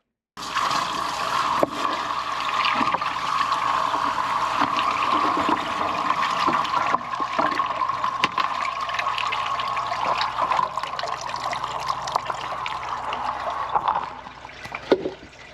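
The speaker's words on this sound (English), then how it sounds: "Let's give it a bit of a wash around and a flow test and make sure everything's working all good." Water gushes steadily through a drain gully during a flow test, a loud, continuous close rush with small splashes and knocks that runs nearly the whole time before tapering off near the end, with no talking.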